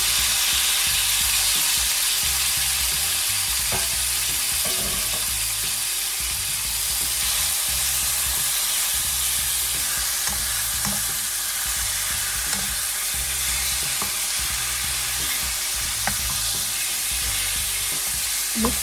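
Turkey schnitzel strips and mixed vegetables sizzle loudly in a pan, a dense steady frying hiss broken by scattered stirring clicks and scrapes throughout.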